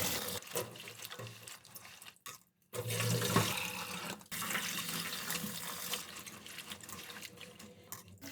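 Running tap water pours into a sink as green beans are washed in plenty of water, a loud continuous splashing rush broken once by a short pause.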